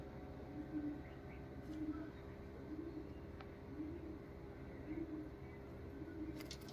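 Two pet pigeons cooing softly at a loft where red 'ratta' pigeons have hatched chicks, low repeated coos recurring every second or so amid steady background hum and faint chirps.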